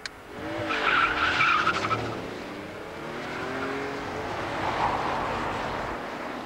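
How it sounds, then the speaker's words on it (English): A rear-wheel-drive car driven with traction control on, tyres squealing briefly as it accelerates, then a steady engine drone, moderately close and without talk. "Perhaps we'd better try it with the traction control on."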